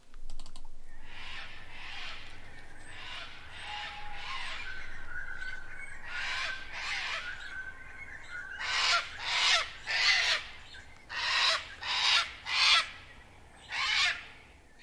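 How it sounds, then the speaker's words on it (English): A cockatoo in Australia calling in a series of loud, harsh screeches, sparse at first and then coming in rapid bursts of about ten cries over the final stretch, heard alone and close. "It was a cockatoo."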